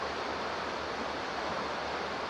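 A creek in Fillmore Glen State Park flows in a steady broadband rush, quiet and unbroken, with no voices.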